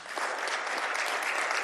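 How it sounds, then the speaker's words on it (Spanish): A church congregation at a pastor's sermon breaks into thick, continuous applause, a close, even wash of many hands clapping with no voices over it. "Dale un aplauso al Señor"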